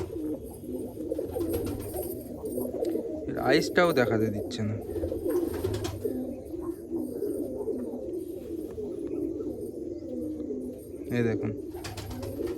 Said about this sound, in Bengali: এই একটা নর পায়রা দেখুন